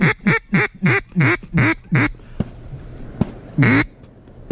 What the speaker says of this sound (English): there's a group of mallards behind us